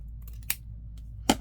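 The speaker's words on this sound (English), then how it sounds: "I gotta trim the excess off here." Two quick, crisp scissor snips trim excess paper in a junk journal, close and isolated against a low steady hum.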